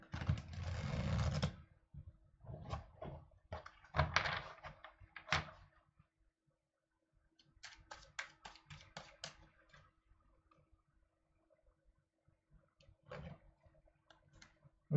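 Tarot cards shuffled by hand in short riffling and sliding bursts with pauses between, fairly close and moderately loud at first, then softer scattered clicks and flicks.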